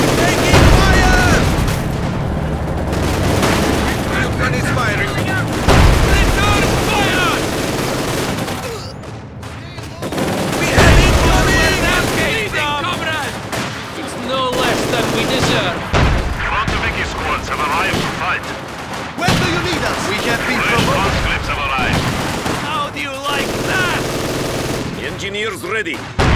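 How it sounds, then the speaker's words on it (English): Heavy battle sounds from the Company of Heroes 2 strategy game, with a field gun firing amid repeated gunfire, booms and bursts of shooting in a winter defense mission, loud and dense with in-game voices shouting over the combat. "Taking fire! Field gun is firing!"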